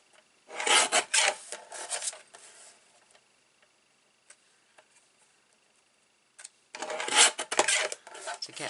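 Scissors or a trimmer cutting and trimming card for a gift bag, two bursts of rough rasping cuts close by separated by a quiet pause with faint ticks.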